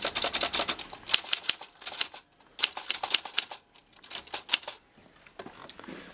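Bursts of sharp mechanical clacks and rattles as the keys and carriage of a vintage typewriter are handled, in uneven close clusters with short pauses between them.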